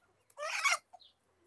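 A hen gives a short burst of clucking close by, followed by a soft brief peep, with quiet in between.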